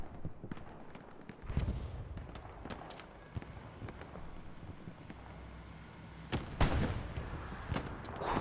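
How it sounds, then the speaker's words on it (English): A long-range rocket explodes in the Hell Let Loose war game on the Utah Beach map, landing as a few sharp, distant-sounding booms among scattered gunfire cracks over a low battlefield rumble. "Nice long-range rocket there from Lange."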